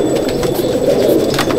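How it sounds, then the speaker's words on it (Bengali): A restless pigeon at a Chennai/Andhra Madrasi pigeon loft in Howrah, held in the hand, with continuous close, loud cooing and a low throaty rumble, plus some rustling throughout. "পায়রা দেখুন, ধরে রাখতে পারা যাচ্ছে না, এতই ছটপটে পায়রা।"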